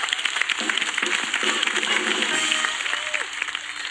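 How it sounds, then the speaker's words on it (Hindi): Loud, steady applause and clapping from a comedy show audience, dense and continuous over a few seconds with faint crowd voices mixed in. "जोरदार तालियां इनके लिए।"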